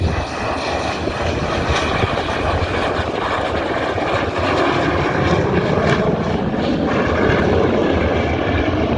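A US-Bangla Airlines Boeing 737 on final approach to an airport runway gives a loud, continuous engine roar with a rough, fluttering texture, sustained without pause and with no talking.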